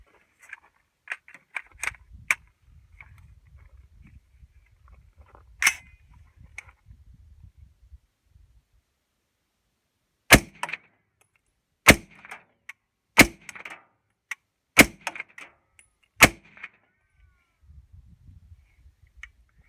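A 300 Blackout AR rifle with a cheap scope fires six sharp, loud shots at uneven intervals of roughly one to two seconds, each a crisp crack, after a stretch of faint low rumbling and small clicks.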